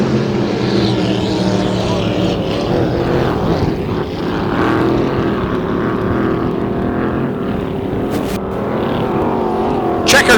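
Roaring vintage hydroplane race boat engines run continuously at Moses Lake, loud and close, with a deep droning rumble that holds steady and shifts slightly in pitch.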